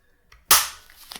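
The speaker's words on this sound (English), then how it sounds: "Right side slide release works." One sharp metallic clack of the slide snapping forward on an H&K VP9 gas blowback airsoft pistol, close and loud, followed by faint handling clicks.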